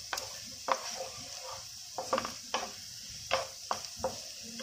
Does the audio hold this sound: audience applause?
no